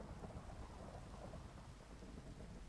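Thunder in Minecraft during a rainstorm: steady close rain with a dull, continuous thunder rumble, fairly faint, with no talk.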